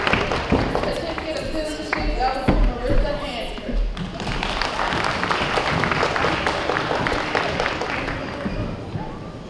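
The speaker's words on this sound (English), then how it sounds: "Let's give them a round of applause." An audience at a school awards ceremony applauds steadily, a dense patter of clapping mixed with voices and some thumps.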